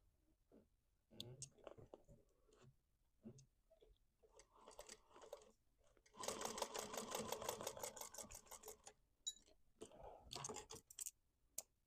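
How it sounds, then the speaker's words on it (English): A sewing machine stitches a seam on a wristlet bag, starting with short bursts and then running in a long, even rattling run before a few quick backstitch bursts, close by and with no speech. "I did back stitch at the start and the stop for both of those."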